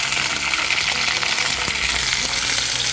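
Vegetables for brinjal kuzhambu sauté in hot oil with mustard seeds, giving a loud, steady, close-up sizzle that runs without a break and has no voices over it.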